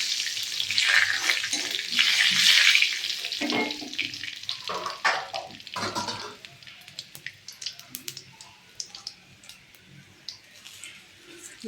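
Dry red chillies frying in hot oil for mung dal with papaya, a loud crackling sizzle that settles into softer intermittent popping and spatter, with faint speech at times.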